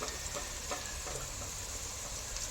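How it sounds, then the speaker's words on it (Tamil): Peeled garlic cloves sauté in oil for a tomato pickle, making a faint, even sizzle with a few light ticks of stirring and no speech. "சுத்தம் பண்ணி இருக்க பூண்டு நல்லா வதங்கட்டும்"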